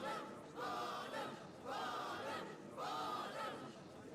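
A game crowd in Professor Layton vs Phoenix Wright shouts in three swelling waves of massed voices, each rising and easing at a regular pace.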